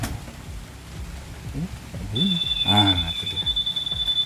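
A Yamaha Fazzio scooter's keyless remote gives an answer-back beep, a steady high electronic tone sounding for the last two seconds while someone talks over it and background noise continues.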